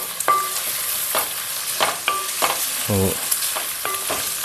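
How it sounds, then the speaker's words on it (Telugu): Onions frying in very hot oil for a fish curry of mattagadasa fish, a steady close crackle with sharp spluttering pops and repeated scrapes of a spoon stirring through the pan. "ఉల్లిపాయలు వేసుకుందాం, ఎందుకంటే పేలుతుంది మరి"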